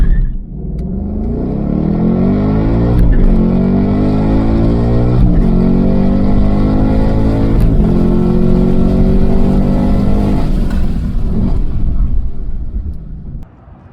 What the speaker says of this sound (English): they had us practicing was the no lift shift feature from the Mach 1